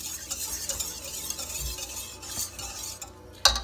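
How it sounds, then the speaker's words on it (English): Yeast for soft pretzel dough is mixed in a bowl, giving a soft continuous swishing and stirring sound with light scrapes and a single sharp clink near the end, quiet and up close with no talking. "I'm using my mixer."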